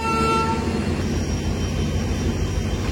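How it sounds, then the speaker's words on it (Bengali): A WDP4 diesel locomotive idles and couples to a passenger train at Bongaigaon Junction, with a steady low engine rumble and rail noise throughout and no clear speech. "সামনে কাপেল হবে এখন আমাদের ট্রেনের সাথে একটি ডিজেল লোকোমোটিভ"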